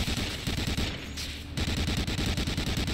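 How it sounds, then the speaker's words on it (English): Rapid gunfire in the World War II shooter Medal of Honor Allied Assault, a dense continuous burst of shots with a brief gap before the firing resumes, loud and steady. "Stop shooting at me!"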